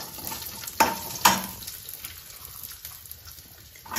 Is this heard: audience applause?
no